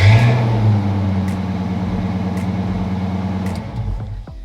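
A vehicle engine, part of a new build, runs steadily with a low drone and sputters to a stop near the end, heard close with no talking.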